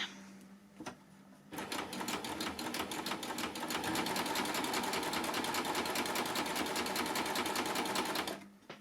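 A baby lock coverstitch machine stitches a hem with a plain hemmer foot, starting with a couple of clicks, then running in a fast, steady mechanical rattle for about seven seconds before stopping abruptly.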